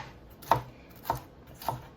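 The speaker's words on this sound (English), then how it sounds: "and then you just dice it up." Three evenly spaced knife chops dicing heirloom peppers on a cutting board, each a crisp close thud about half a second apart against quiet background.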